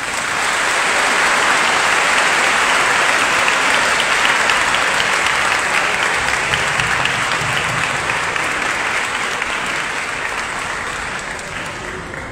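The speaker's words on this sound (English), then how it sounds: "Let's encourage them with a round of applause." Sustained applause from an audience at a cathedral gathering, steady and loud throughout with dense clapping that slowly eases toward the end.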